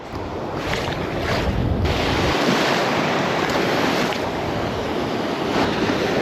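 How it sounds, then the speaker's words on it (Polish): Sea waves splash continuously on a freezing, windy coast, with strong wind buffeting the microphone into a loud, dense roar and no pauses. "Jest kosmicznie zimno, w wiatr, fale chlapią, już pomoczyłem cały."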